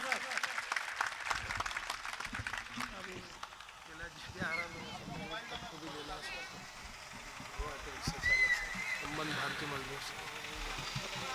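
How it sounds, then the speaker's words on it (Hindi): An audience at an auto-rickshaw drivers' union Diwali gathering claps to welcome a Member of Parliament, a dense, sustained patter of applause mixed with crowd murmur and an announcer's voice over the top. "जोरदार तालियों से माननीय सांसद जी का स्वागत।"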